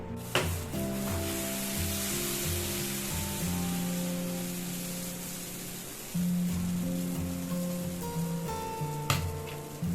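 Dosa batter frying in sesame oil on a hot pan, a steady broad sizzle running throughout with a brief sharper crackle near the end, heard alone without talk.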